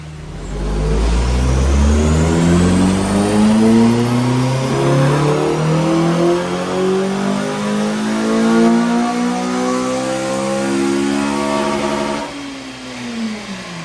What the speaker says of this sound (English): FN2 on the dyno